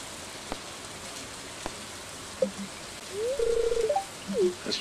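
Rain falls in the farming video game Stardew Valley as a soft, steady patter, with a few brief game tones rising and chiming over it.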